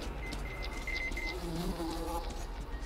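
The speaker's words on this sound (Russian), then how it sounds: "Мухи летают здесь." Flies buzz in an interior area of the Metro Exodus Enhanced Edition video game, a close, continuous insect drone with thin, wavering tones over a steady low background hum.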